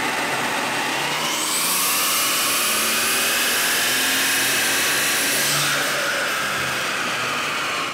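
A Mercedes CL65 AMG engine on a dyno, loud and close, rising in a sustained roar with a high whine that holds for several seconds before easing off.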